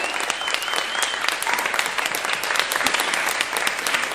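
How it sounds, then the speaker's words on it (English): An audience at Manchester Art Gallery applauds Trish Dee at a tribute event, with dense, steady clapping from a crowd filling the whole stretch at an even level and no talking over it. "A big round of applause, everyone, for Trish Dee."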